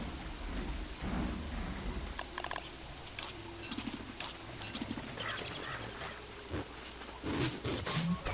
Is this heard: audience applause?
no